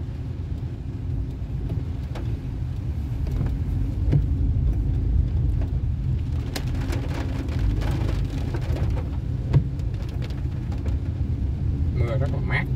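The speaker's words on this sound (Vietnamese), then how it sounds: "Mưa rất là mát." Steady rain falls on a road during a motorbike ride from Mỹ Tho toward Gò Công in Vietnam, a continuous dense hiss of drops with low wind and engine rumble underneath and scattered sharper splashes.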